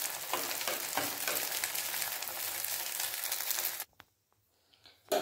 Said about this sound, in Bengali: কড়াইশুঁটির পুরটা ভালোভাবে শুকনো করে নেব